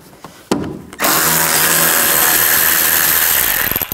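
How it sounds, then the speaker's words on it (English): Power tool spinning out screws with a T20 socket on top of the radiator area of a 2009-17 Chevy Traverse, a brief click and whir leading into a loud, continuous close-up buzzing run. "Now we're going to take these screws out. They're all on the top here. Use a T20 socket."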